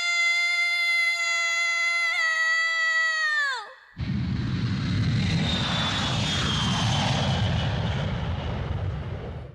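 Jet airliner departing Japan for New York in an anime scene, a loud steady roar rising and sweeping past after an earlier sustained tonal hum cuts off, with no voices.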